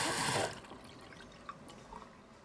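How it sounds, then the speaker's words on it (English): Tap water sprays hard onto a Whirlpool dishwasher filter in a short burst, then stops, leaving faint drips and small splashes in a quiet room. "Give it a nice healthy spray with water and get all the particles"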